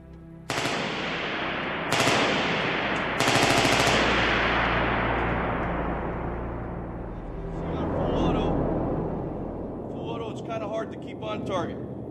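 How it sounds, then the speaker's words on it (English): Three loud sharp broadband blasts from a featherweight M14 rifle, each ringing out and decaying, followed by a low rumble and someone speaking over the fading echoes. "if you were to fire this fully automatically, the first round would be there, the second round would be there"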